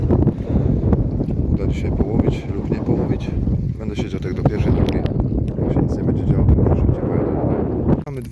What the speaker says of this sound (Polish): Wieje wiatr, ma trochę jeszcze popadać